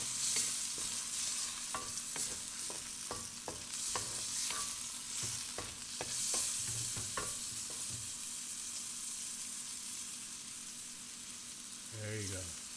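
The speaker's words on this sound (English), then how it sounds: "So let's give it a good stir." Longanisa sausage fries in a pan with a steady sizzle while a utensil stirs and scrapes in a run of sharp clicks and taps, followed by a quieter stretch of frying alone.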